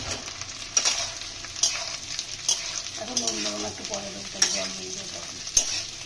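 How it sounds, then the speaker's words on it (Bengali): Pointed gourd and other vegetables sizzle steadily in a hot pan while a utensil scrapes and clanks against it every second or so. "সবগুলো ভালোভাবে ভাজা ভাজা করে নিতে হবে"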